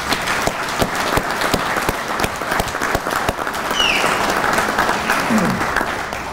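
Sustained crowd applause fills the room for a group of American Legion Legionnaires at a Hoosier Legion gathering, a dense steady patter of many hands clapping at once.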